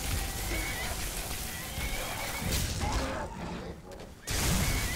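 Horse neighing in the video game Skyrim Dawnguard, a loud whinny amid dense clattering game noise and combat sounds, with a brief drop to near quiet before the noise returns.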